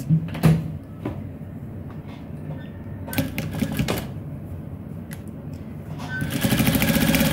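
A sewing machine stitches boxer shorts fabric, starting with a few clunks and clicks and then settling into a steady, rapid mechanical whirr that grows louder toward the end.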